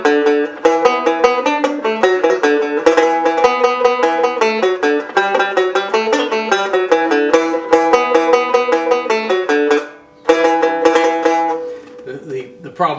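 A banjo picked with the McKenna grip plays a fast, bright run of plucked notes, steady and close, pausing briefly near the ten-second mark before a few more notes.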